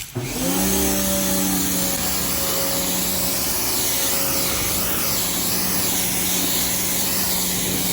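A powerful pressure spray hisses loudly and continuously close by, with a pump whine underneath, as water rinses soap off a car being washed, no talking heard.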